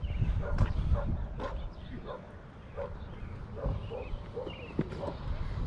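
Dogs bark and yip indoors in the morning, several short sharp barks scattered through the moment at moderate distance, with people talking over them.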